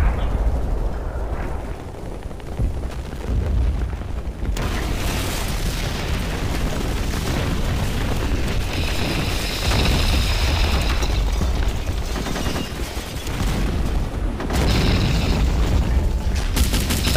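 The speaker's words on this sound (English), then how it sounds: "I think maybe my artillery piece was firing at the ground just in front of it there." An artillery piece in a war video game set around Küstrin fires shells at close range, giving a steady roar of booms and rumbling blasts that carries on with no talk over it.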